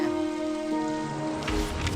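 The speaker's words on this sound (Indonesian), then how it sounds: "Ini hanya hujan biasa seperti hujan-hujan sebelumnya." Steady rain falling in a village during a folk-tale storm, a dense continuous hiss of drops with a low rumble growing toward the end, no voices over it.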